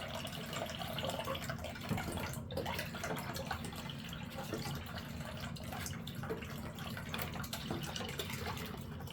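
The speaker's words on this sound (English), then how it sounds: "this is water and kind of like lint that comes out of here" Water runs and trickles steadily at low volume, a continuous splashing flow of water and lint draining from a GE Profile washer/dryer combo into a cup.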